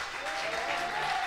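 An audience applauds loudly and steadily for André Amitrano, a celebrated former OGC Nice football player, a dense wash of clapping that holds for a moment with no voices over it.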